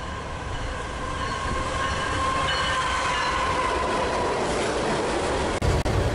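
A CSX freight train rolls past steadily on the Trenton Subdivision in New Jersey, a continuous loud rumble of wheels and cars with faint rail squeal, holding close and constant until a brief dip near the end.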